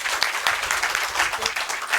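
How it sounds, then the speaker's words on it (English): An audience applauds steadily, a dense patter of many hands clapping at moderate volume. "Please give him a warm applause today."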